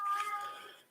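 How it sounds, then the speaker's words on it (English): A pet cat gives a single short, faint meow, heard alone and close by. "Sorry if you can hear my cat."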